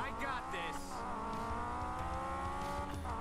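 Cars drift in a Ford versus Honda race in Need for Speed Payback, engines droning and revving with tire squeal and layered game music, a voice talking over the action throughout.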